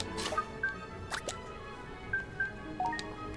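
Water spout spell in Ni No Kuni: Wrath of the White Witch, heard as soft dripping, splashing plinks and brief watery swishes, faint and intermittent over a quiet background.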